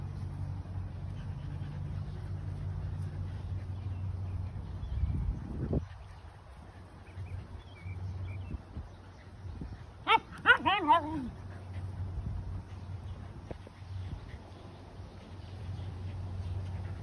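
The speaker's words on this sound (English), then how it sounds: "Husky babies, what's going on over here?" Husky puppies whine and yip outdoors, with a short burst of rising, wavering whimpers in the middle over a steady low background rumble; a person's voice is briefly heard.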